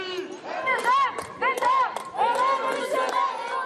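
A street crowd of pension reform protesters chants in loud rising and falling waves, with voices repeating a rhythmic call that fills the scene close by.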